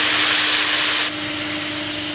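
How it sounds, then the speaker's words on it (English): A paint spray gun hisses steadily and loudly as it sprays color onto a wheel in a car restoration shop, one continuous airy jet that drops slightly in level partway through. "what I'm gonna do is just spray a little color on there"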